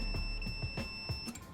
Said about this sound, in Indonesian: kalau kita ukur pakai buzzer, dia akan ada suaranya